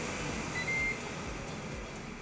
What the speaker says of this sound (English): Our timer just went off on our Ninja Foodi.